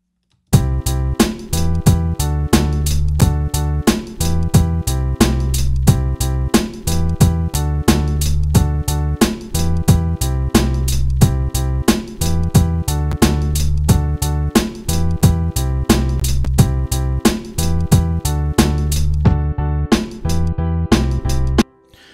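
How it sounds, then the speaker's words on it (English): A loud, punchy eight-bar hip-hop beat loops steadily, thumping drums and deep bass under repeating piano chords, cycling for about twenty seconds. "So that is our 8-bar loop that we created."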